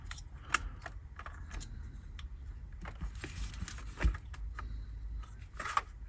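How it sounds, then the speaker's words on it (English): Small screws come out of a Hornby Dublo Deltic model locomotive with faint, close clicks and light metallic taps scattered over a low background hum, one sharper tick near the end. "So I'm just going to go ahead and remove a few of those screws."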